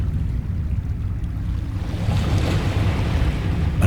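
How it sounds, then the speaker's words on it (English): Water laps and washes in the Dagon interactive game, a steady rushing surge with a windy, ocean-like wash that grows slightly louder partway through, with no voices. "Across the chasm, the wavelets washed the base of the Cyclopean monolith"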